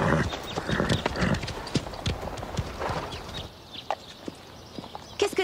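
Horses walking back at a steady pace, hooves clip-clopping in an even rhythm, close and clear over outdoor background noise, with no talking.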